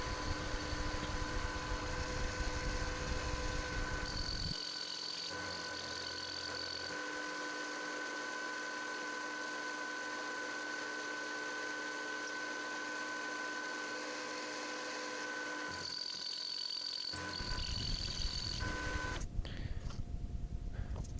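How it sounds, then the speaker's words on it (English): A 1/2-inch end mill machines a brass piece for a folding knife: a steady, close whining drone with sustained tonal hum, dropping to a quieter, duller stretch in the middle before the brighter cutting whine returns. No one talks. "I'm just taking a 1/2-inch end mill here and machining most of it away"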